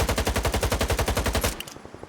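A rapid automatic gunfire burst in the video game S.T.A.L.K.E.R. 2, loud and steady for about a second and a half, then cutting off abruptly into a few faint mechanical clicks as the weapon jams.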